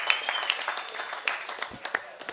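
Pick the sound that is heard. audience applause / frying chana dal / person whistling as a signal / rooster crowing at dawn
audience applause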